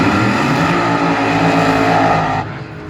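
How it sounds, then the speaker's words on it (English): Capco Contractors Top Fuel dragster engine firing up at a drag race, a loud, dense roaring blast that holds steady for a few seconds before easing off slightly, heard alone without talk. "The Capco Contractors car fired up."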